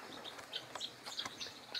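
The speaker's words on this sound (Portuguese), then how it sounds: "Olha as galinhas da Angola lá." Guinea fowl call faintly across a country farmyard, giving a run of short, scratchy chirps at a distance over quiet outdoor background noise.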